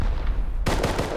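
A rapid burst of gunfire in the survival game Rust starts suddenly after a stretch of low ambient rumble. The shots come as loud, quick repeating cracks.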